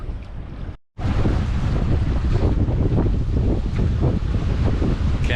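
Loud wind buffets the microphone around a sailboat at anchor in wind against tide, with choppy water slapping beneath. A brief dropout comes after a second, then the rushing roar carries on steadily.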